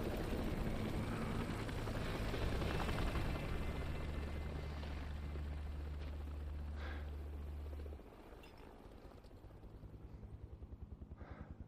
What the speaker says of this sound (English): The helicopter went down.